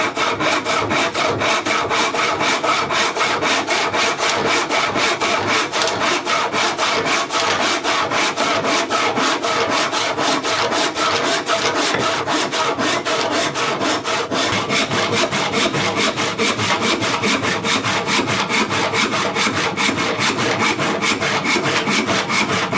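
A hand saw cuts hardwood in fast, steady rasping strokes that run without a break. The sawing is close and loud, with no talking.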